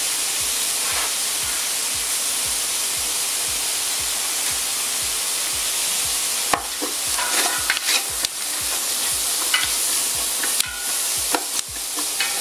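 Carrots, celery and turnips sweat in a cooking pot with a steady broad sizzle and a fast regular stirring pulse, then occasional clinks and scrapes near the end, with no voices.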